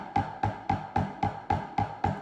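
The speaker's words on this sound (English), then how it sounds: "Real tight and choked off." Drum buzz strokes pressed too hard into the head, giving eight tight, choked, short pulses in an even rhythm, quiet and alone.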